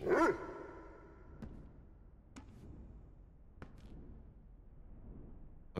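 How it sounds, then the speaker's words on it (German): A dog in the video game Necromunda: Hired Gun gives a short bark near the start, followed by a few faint, sparse clicks and ticks over quiet game ambience. "Schau mal, ich kann den Hund streicheln."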